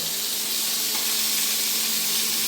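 Poma fish frying in a pan, a loud, dense, unbroken hissing sizzle heard up close with no break.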